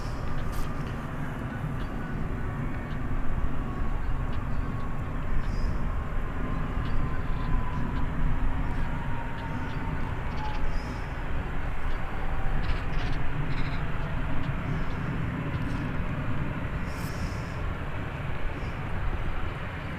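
A Jet2 airliner arrives at Birmingham airport, its loud engine roar rumbling steadily and building slightly as it passes close, with a faint whistling whine drifting through and no talk.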